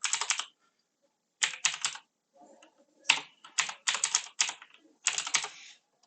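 Quick bursts of typing on a computer keyboard, rapid clicky keystrokes in short clusters separated by brief pauses, close and clear.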